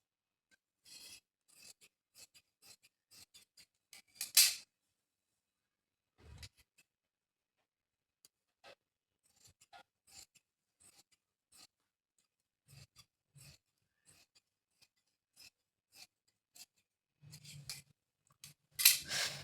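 Scissors snip through blouse fabric in short, quiet cuts, a scattered run of crisp rasping snips with pauses between, close to the ear, no talk.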